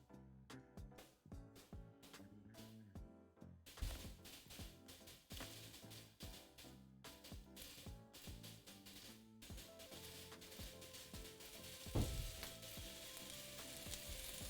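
Home fries crisping in a frying pan give off a steady, continuous sizzle that runs the whole time at moderate level, with occasional louder pops and stirring sounds.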